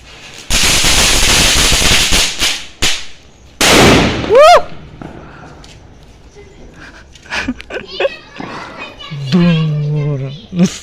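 Firecrackers bursting at a New Year's Eve celebration, a long crackling string followed by sharp loud bangs, with children shouting and talking excitedly in between.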